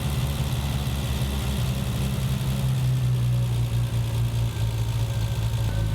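A Triumph TR6 with Patton Machine fuel injection idles steadily close by, a continuous low rumble with a slight rise in engine speed partway through.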